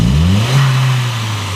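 A 1999 Volkswagen Passat 1.8T engine with a faulty mass airflow sensor, its throttle snapped so the revs climb quickly and then settle back into a steady, loud idle drone close by.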